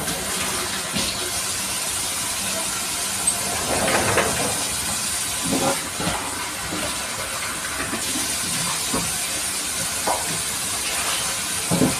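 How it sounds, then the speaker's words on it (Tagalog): A steady loud hiss of paksiw boiling in a pot, with faint bubbling pops scattered throughout. "At ito na guys, kumukulo na siya."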